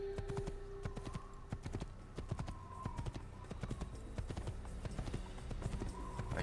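Horse hooves in Assassin's Creed clip-clop in a quick, steady rhythm, close and clear, with no talk over them.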